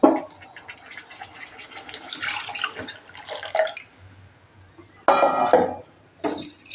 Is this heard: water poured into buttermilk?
yes